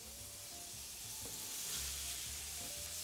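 Steak sizzles on a hot grill oiled with olive oil, a steady, soft hiss and crackle with occasional faint pops, continuous throughout with no voices.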